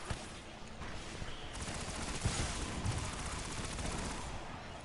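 Gunfire in the video game Destiny: dense, continuous automatic shooting with a steady, noisy rattle throughout, fairly faint overall, with a few slightly louder hits along the way.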